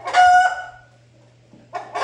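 A rooster crows close by on a farm, a loud drawn-out call, then a short pause before another crow begins at the end, with a low steady hum underneath.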